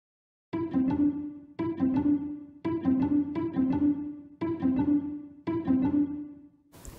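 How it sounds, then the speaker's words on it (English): Plucked cellos playing short, sharp staccato notes in repeated rhythmic phrases, each group of pizzicato plucks separated by brief pauses, clear and close with no talking. "This is how the cellos sound when they are being plucked."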